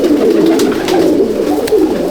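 A female Gidar pigeon of the Madras breed coos in low, rolling murmurs, close and steady, with a few soft wing or movement sounds breaking through.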